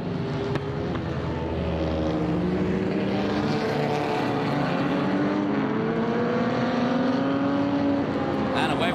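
Several race cars at the Velocity Invitational roar three abreast into Andretti curve, engines rising and sweeping in pitch as they pass close and loud, with a commentator talking over the steady engine noise.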